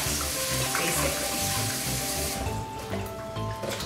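Tap water runs steadily into a sink, a loud continuous splashing rush that changes slightly in tone partway through.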